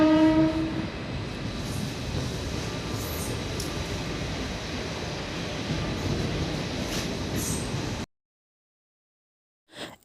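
Train horn blasting at a railway station near Digha, a loud sustained tone at the start over steady rumbling carriage noise that runs for about eight seconds, then cuts to silence with a brief thump near the end.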